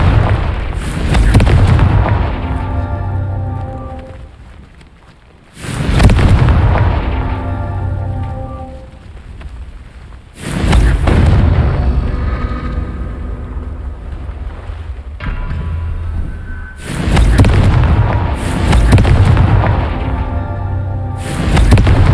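Repeated fire-spell explosions in the video game Hogwarts Legacy, four heavy booming blasts spaced a few seconds apart, each loud and broadband with a rumbling tail that fades before the next.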